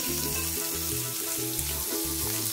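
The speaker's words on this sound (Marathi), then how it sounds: "कलमीचा तुकडा, सुकं खोबरं 2-3 मिनिट कांदे गोल्डन ब्राऊन होईपर्यंत भाजून घेते" Onions roasting in a hot pan with a piece of cinnamon and dried coconut for a potato and peas curry, producing a steady, close sizzle and crackle with faint scraping from stirring.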